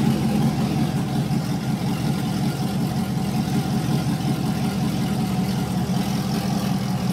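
A 2007 4.8-liter V8 fitted with an LS2 camshaft from a 2006 GTO, swapped into a 2004 Colorado, idles steadily at low rpm with a deep, continuous rumble and a slightly lumpy pulse, close and alone.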